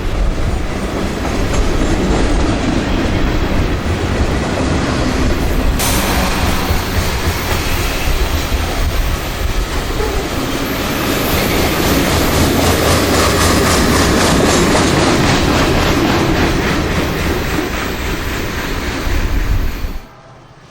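A long freight train rumbles past close by near Atlanta, steady clickety-clack of wheels over rail joints, loud throughout before cutting off abruptly at the end.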